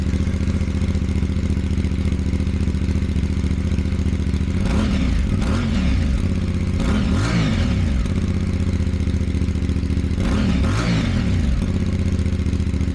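A CF Moto CL-C motorcycle engine idles loudly and steadily nearby, with three quick throttle blips rising and falling in pitch partway through.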